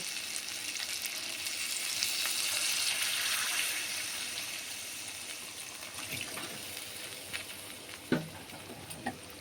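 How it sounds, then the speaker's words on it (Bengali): Water poured into a pan of frying fish curry with potato, pointed gourd and carrot in oil, a steady hiss and sizzle swelling then settling, with a few clinks near the end. "এবার আমি পরিমাণ মতো ঝোলের জন্য জল দিয়ে দেব।"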